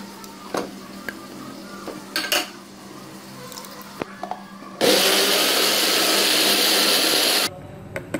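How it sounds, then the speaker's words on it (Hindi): A kitchen grinder blends yogurt and onion for Lahori-style chicken nihari, running loud and steady for about three seconds after scattered clinks of utensils. "ये सारी दही इस ग्राइंडर में डालकर इसको ब्लेंड कर लेंगे।"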